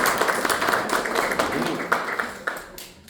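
Children and an audience clapping at a kindergarten Christmas party, a dense ripple of hand claps with a few sharper claps standing out, fairly close and continuing steadily throughout.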